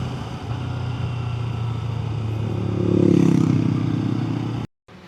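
A motorcycle engine idles and rumbles close by as it is ridden and brought to a halt for parking in Betong, swelling briefly with a rev before cutting off abruptly near the end.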